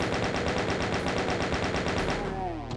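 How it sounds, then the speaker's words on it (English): Rapid chain gun fire in the game Voxel Doom 2, a steady loud stream of shots rattling for over two seconds, then stopping as a ringing echo and rumble fade out. "I will just chain gun them."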